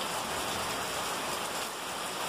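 Steady rain pours at a camping construction site, a dense even hiss with no breaks and no voices.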